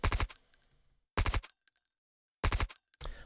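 Layered Modern Warfare gunshot with a bullet whiz-by texture, heard as three loud, sharp bursts spaced about a second apart, each decaying quickly into near silence.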